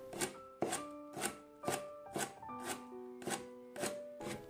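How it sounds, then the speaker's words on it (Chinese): Knife chopping blanched Chinese toon leaves on a cutting board, a steady series of about nine crisp, evenly spaced thuds, close and clear, with a faint tonal ring beneath and no talk. "稍微的放凉，给它取出来，放在案板上给它切碎。"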